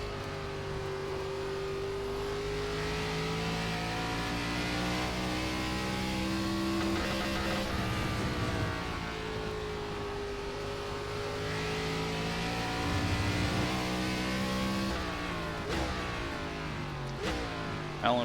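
Race car engine running steadily in iRacing, an ARCA West Series NASCAR round at Sonoma, the pitch climbing and dropping through gear changes, with loud continuous droning and a sharp upshift near the end.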